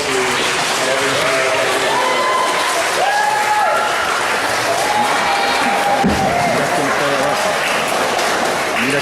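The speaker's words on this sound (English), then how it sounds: "So you need to applaud them for all the help they do and everything" A crowd applauds parents in a dense, sustained burst of clapping, with voices and cheers mixed in throughout.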